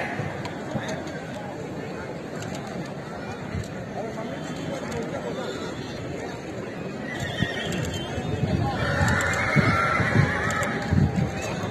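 A Marwari mare at a horse show in Rajasthan whinnies loudly over crowd chatter and a public-address announcer, and hooves clop nearby.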